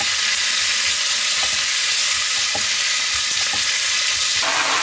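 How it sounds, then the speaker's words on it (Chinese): Chinese cabbage stalks stir-fry in a hot wok with a loud, dense, constant sizzle, a few faint spatula knocks showing through, close up and with no voices. "先把白菜帮给它炒软"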